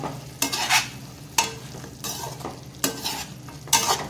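Raw banana pieces, fried earlier, being turned through a cooking masala in a pan for a wedding-style vazhakkai poriyal, giving four or five scraping stir strokes with soft sizzling underneath, close and moderately loud with no talking.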